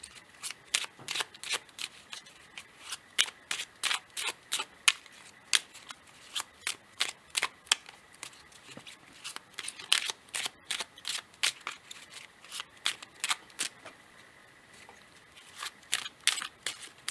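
Cards from a power animal oracle deck are shuffled over and over, giving a long series of crisp, papery riffles and snaps in uneven bursts, close and fairly loud, with no speech.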